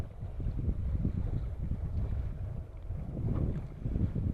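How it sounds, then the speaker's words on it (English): Steady wind buffets the microphone on a small fishing boat out on Cayuga Lake, a low rumbling roar that swells and eases with the gusts, with no one speaking. "Wind blowing pretty good, which isn't terribly helpful."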